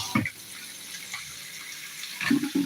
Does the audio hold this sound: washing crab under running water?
yes